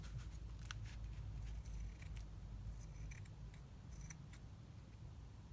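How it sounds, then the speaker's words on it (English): Scissors trimming paper for a junk journal, faint, close snips in a few short bursts over a soft, low background hum. "And then I'm just going to trim it off on this side as well."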